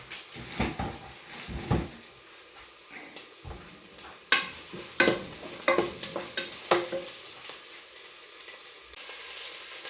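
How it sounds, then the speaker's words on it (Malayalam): Curry leaves and green chillies fry in a pan for a duck curry, with a soft sizzle beneath intermittent stirring scrapes, utensil taps and clinks, fairly quiet overall. "കുറച്ച് ഏറെ കറിവേപ്പില ഇട്ടു ഒരു രണ്ട് മൂന്ന് പച്ചമുളക് ഇട്ടു അതെല്ലാം ഒന്ന് വഴന്ന് വരട്ടെ"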